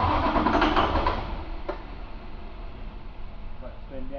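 A 2006 International VT365 diesel engine cranks while losing fuel pressure, a steady whirring drone that stays constant without catching, with a voice speaking over it.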